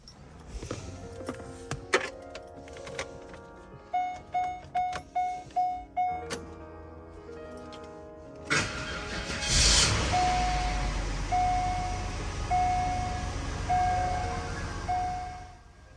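A 1995 Oldsmobile Aurora, freshly fitted with a new coil pack, cranks with a short run of rhythmic pulses, then fires and settles into a steady, smooth idle that carries on alone at moderate volume.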